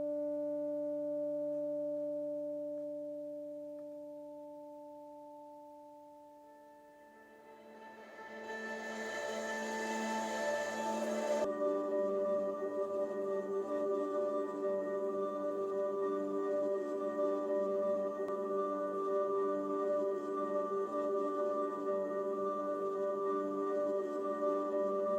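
An instrumental track plays: sustained pure tones fade down, then a fuller, hazy swell of layered sound rises and holds steady at a moderate level.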